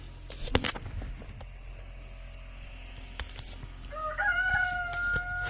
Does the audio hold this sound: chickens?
yes